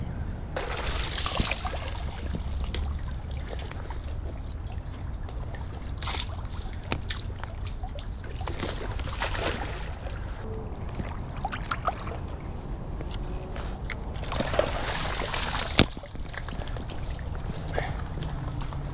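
Creek water flows steadily throughout, a continuous broadband rush with occasional splashes and brief knocks, heard close with no talking.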